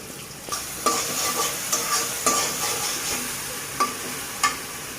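Crushed onion, green chilli and garlic frying in hot oil in a preheated wok, a steady sizzle broken by sharp scraping stirs every half second or so, close and fairly loud, with no voices.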